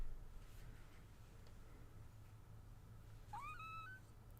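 A cat lets out a single short squeaky meow near the end, faint against a quiet room hum, with no talking.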